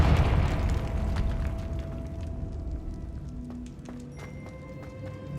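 Confringo blasting spell going off in the Hogwarts Legacy video game, a loud opening burst with a rumbling tail that fades into layered game ambience, sparse tonal chimes and occasional sharp clicks.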